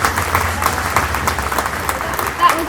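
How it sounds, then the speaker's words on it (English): Conference audience applauds arriving guests at an anniversary event, steady clapping with a few whoops, close and fairly loud, while voices talk over it. "Come on, give them all a huge round of applause."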